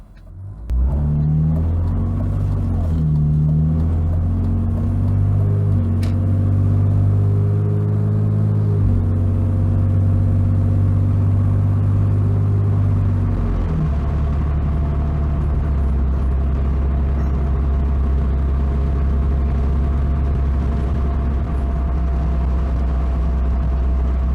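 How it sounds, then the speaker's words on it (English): A BMW E46 on urethane motor mounts drives on a test run, its engine a steady low rumble with gear changes and rising revs early on, then a smooth constant drone with road noise. "driving normally, I feel just a little bit of vibration through the steering wheel and a little bit through the floor"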